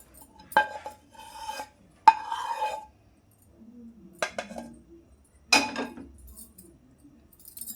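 Mango pieces are mixed with ginger-garlic paste, salt, chili and a cooled tempering of cumin and mustard seeds in a bowl. A spoon clinks and scrapes against the bowl in several separate bursts with short quiet gaps between them.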